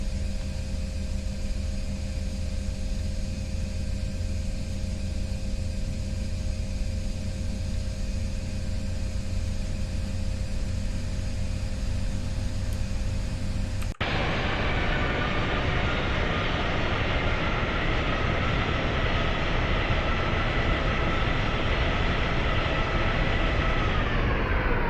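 Embraer E195 airliner taking off in the X-Plane 11 flight simulator: a steady engine hum holds, then jumps sharply to a loud, dense roar that stays up as the jet rolls down runway 23.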